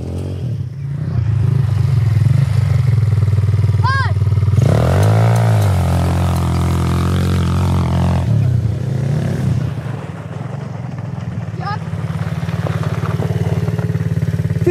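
A powerful quad bike engine roars at full throttle close by. It revs steadily and loudly, with a rising and falling surge partway through, under outdoor riding noise.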